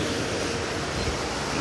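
Steady rushing water with wind noise around a boat driven by an electric outboard motor, a continuous wash like a hull cutting through water, no voices.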